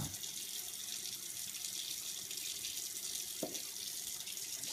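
Tap water runs steadily into a sink while freshly hatched Python curtus are rinsed under it, a close, continuous hissing stream with a brief faint knock partway through and no talking.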